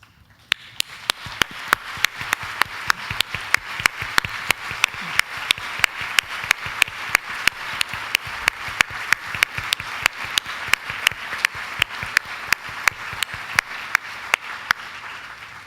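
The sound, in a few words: audience applause for military spouse guests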